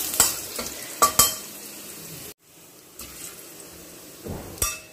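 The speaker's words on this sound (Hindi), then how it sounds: "हल्का लाल लाल करके इसको फ्राई करना है।" Something fries to a light red in a pan for palak paneer, with close stirring scrapes and metal clinks over a low sizzle, briefly cutting to near silence midway, with no voices.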